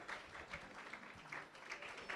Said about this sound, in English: Give me a big round of applause for Mr.